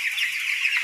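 Poultry chicks on a farm chirp and cluck in a dense, steady chorus, close and continuous with no talking.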